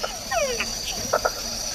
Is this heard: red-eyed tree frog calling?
yes